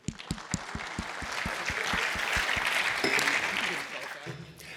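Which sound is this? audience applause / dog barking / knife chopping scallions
audience applause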